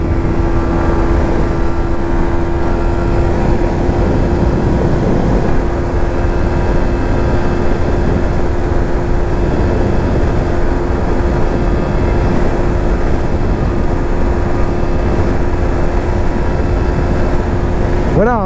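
A 2020 Yamaha MT 125 motorcycle runs flat out at about 120 km/h with a steady, loud engine drone mixed with wind rush. The sound is continuous and close.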